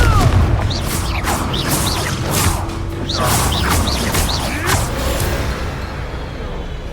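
Fiery Confringo spell blasts from the video game Hogwarts Legacy, a series of booming explosive bursts with crackling, mechanical impacts that run almost continuously under overlapping game voices and effects.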